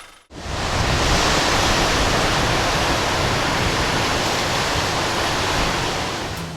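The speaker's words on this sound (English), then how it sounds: "The crashing waves of the Pacific made a perfect breakfast companion for the group" Pacific Ocean waves crash on a beach in a loud, steady roar of broadband surf that starts abruptly and holds nearly constant for several seconds, with no voices.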